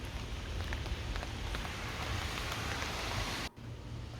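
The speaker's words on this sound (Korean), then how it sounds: "빗소리가 들리시나요?" Steady rain patters on a rooftop garden close by, a dense continuous hiss of drops with a brief dip near the end.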